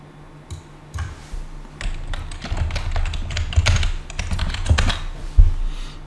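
Password keys tapped out on a computer keyboard, a quick irregular run of close, crisp clicks with no talking.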